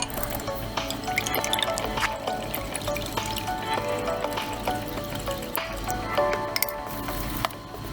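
Milk pours and drips into cornstarch for a cinnamon roll dough, a continuous wet trickling with small clicks and rattles throughout.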